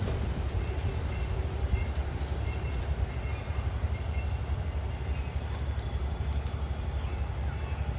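A Thai railway train hauled by GEA 4530 locomotive, waiting near Thonburi for a signal, gives off a continuous low rumble with a steady high-pitched wheel squeal over it, all fairly loud and unbroken.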